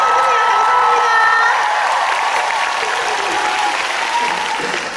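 A large audience at a musical gala concert talk segment bursts into loud, sustained applause mixed with cheering and whoops, with a faint tonal hum underneath, tapering slightly toward the end.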